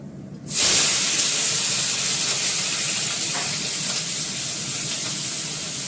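Spices and black cumin hit hot oil for tempering, bursting into a sudden loud hiss that settles into a steady, close sizzle, slowly fading over several seconds.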